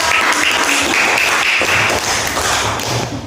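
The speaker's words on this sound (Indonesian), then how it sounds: "beri tepuk tangan untuk" Students in a classroom applaud together after a group finishes presenting its discussion, a dense, steady wash of clapping that fills the whole clip at close range and eases slightly near the end.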